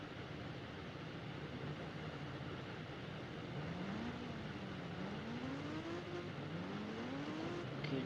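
KTM motorcycle engine in the Indian Bikes video game, a steady synthetic drone that rises and falls in pitch through repeated revs, with continuous background engine noise throughout.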